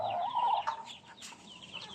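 A chicken gives a few short clucks and a brief squawk, close by and fairly quiet, with no voices.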